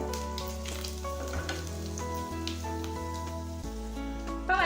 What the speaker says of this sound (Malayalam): ഇപ്പൊ വറ്റൽമുളകും നന്നായിട്ടൊന്ന് മൂത്ത് വന്നിട്ടുണ്ട്.